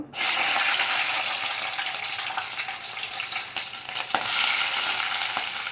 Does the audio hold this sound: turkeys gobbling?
no